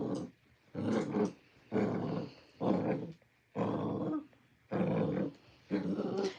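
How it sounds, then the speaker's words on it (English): A dog in a horse riding video game growls in a series of about seven low, rhythmic bursts separated by short pauses, moderately faint. "I'm not gonna get anywhere with this dog."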